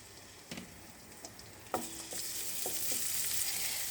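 Crushed garlic drops into a little hot mustard oil and starts to fry, giving a few sharp clinks and pops that build into a steady, close sizzle.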